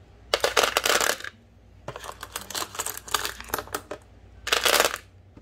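Pieces of iridescent teal and green fish tank glass clink and rattle as they are handled, in three bright clattering bursts separated by quieter shuffling.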